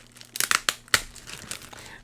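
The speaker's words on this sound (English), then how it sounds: "A little glare with the plastic bag, so let me get the bag out of the way." A plastic bag crinkles and rustles in a short burst of sharp, close crackles as it is pushed aside, then settles into fainter scattered rustling.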